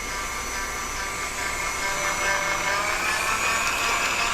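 An electric stand mixer with a paddle attachment beats lemon cupcake batter after an egg is added, giving a steady, loud mechanical whir with a high motor whine that runs unbroken throughout, with no talking.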